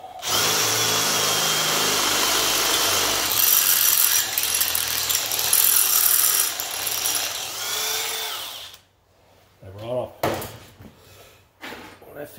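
A power drill with a 1/8 inch bit whines steadily for several seconds, grinding and ratcheting as it bites, then stops; short mechanical bursts and movement follow near the end.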